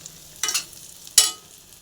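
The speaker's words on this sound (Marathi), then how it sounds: "मी थोडंसं याला परतून घेते." Brinjal stuffing is sautéed and stirred in a pan, giving two short bursts of sizzling and scraping separated by a near-silent pause.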